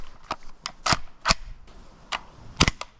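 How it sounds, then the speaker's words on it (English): Gas-powered airsoft pistol firing, about eight sharp snapping shots in quick irregular succession, each with a crisp metallic clack as the slide cycles back. "this guy is actually one of my favorite gas pistols I've ever shot in Airsoft"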